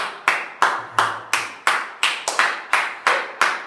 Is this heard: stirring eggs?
no